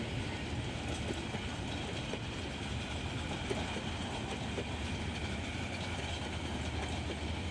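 The Titash Commuter local train on the Dhaka to Narsingdi route, a steady rumbling roar of rolling wagons with faint clickety-clack of wheels on rail, constant in level throughout, no voices.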